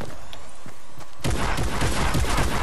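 Fortnite gunfire: a quieter stretch with a few scattered shots, then a sudden loud fusillade of rapid, heavy shots and booms that continues to the end.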